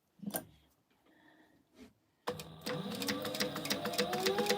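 A sewing machine starts up after a few quiet handling sounds, then runs steadily and close by, back stitching at the start of a seam on a fabric pouch, its motor hum and needle rhythm continuous to the end.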